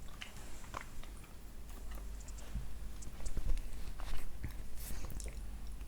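Crunchy edible clay from Orsk is bitten and chewed close up, giving quiet, irregular crunches and crisp snaps over several seconds with no talking.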